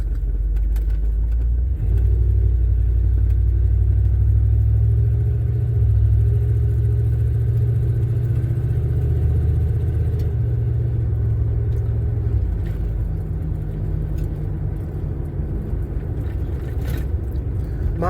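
A 1988 Chevy OBS pickup engine rumbles steadily at idle after a cold start, a loud, continuous low-pitched drone that holds close and even for the whole stretch with a slight scraping texture.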